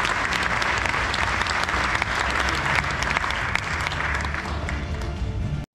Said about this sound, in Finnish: annetaanpa aikuisten alkokisaurheilijoille aplodit.